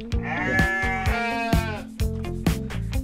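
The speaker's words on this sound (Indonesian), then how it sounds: "di sini saya lagi posisi di antara bos-bos kambing" Several goats bleat among a herd of farm goats, loud wavering cries overlapping one another with short pauses and a low rumble beneath.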